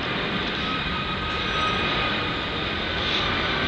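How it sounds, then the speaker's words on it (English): An airplane passes overhead as a steady, moderately faint roar that swells slightly midway, heard outdoors in a Florida garden with no talking. "There goes the airplane."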